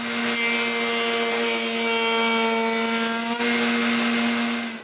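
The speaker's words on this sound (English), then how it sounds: "I cut a slot inside the table's backside" Handsaw cutting a slot into the back of a wooden table, steady continuous rasping strokes, close and loud, running alone without pause throughout.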